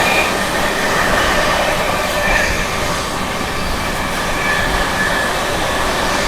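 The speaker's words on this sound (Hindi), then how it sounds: "SMVT बेंगलुरु दानापुर संगम मित्र एक्सप्रेस के साथ क्रॉसिंग हुई अपनी" Sampoorna Kranti Express, an Indian long-distance train, crossing the SMVT Bengaluru–Danapur Sangamitra Express, giving a steady loud rumble of passing coaches with rail clatter and a faint wheel squeal throughout.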